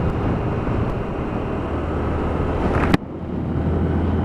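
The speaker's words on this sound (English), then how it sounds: "And these little Assaults have got a good exhaust tone, they're not overly loud." Lexmoto Assault motorcycle riding along, its exhaust a steady broad drone with wind rush, briefly interrupted by a sharp bump partway through before the engine sound carries on.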